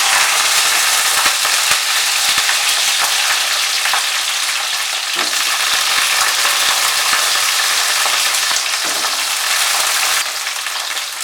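Ripe jujubes (kul), 200 grams, washed with stems removed, fry in a pan for a chutney, giving a loud, steady, close sizzle with crackling pops that runs unbroken, with no voices.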